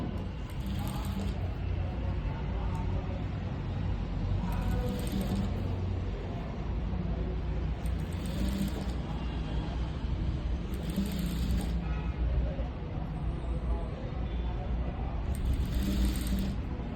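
A sewing machine stitches a frill onto a blouse, its steady mechanical whirring running continuously with a rhythmic clatter of the needle mechanism recurring every few seconds.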